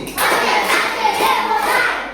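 A group of students claps together in a classroom concentration-clap routine, a dense, loud burst of many hands that sounds rhythmic and continuous, with no speech over it.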